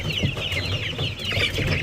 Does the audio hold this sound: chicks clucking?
yes